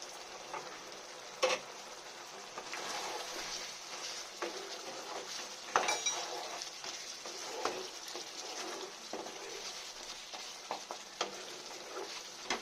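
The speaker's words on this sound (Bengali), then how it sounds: "ভালো করে নেড়ে দিলাম" Mutton curry with garam masala being stirred in a pan: a soft, low sizzle with scattered light scrapes and taps of the spoon, close but quiet, no speech.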